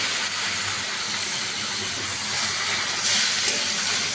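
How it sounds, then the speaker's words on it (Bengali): A small splash of water hits spiced vegetables and green plantain in a hot pan, giving a loud, steady steam hiss that fills the whole moment. "এখানে আমি সামান্য একটু জল দিয়ে দিচ্ছি।"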